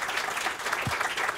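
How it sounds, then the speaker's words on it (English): Applause from an audience at a career and technical education groundbreaking ceremony, a steady, dense wash of clapping filling the whole moment with no speech over it. "a really big round of applause for them"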